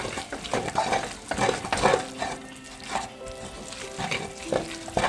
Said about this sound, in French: Ensuite, on mélange les pâtes.